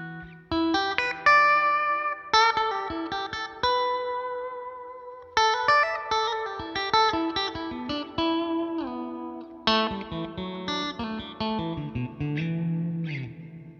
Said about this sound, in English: I thought it sounded like quite a rich reverb.